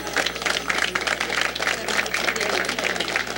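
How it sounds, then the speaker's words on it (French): An audience at a gathering applauds together, a dense, steady wash of many hands clapping with speech mixed in throughout. "Je pense qu'on peut s'applaudir."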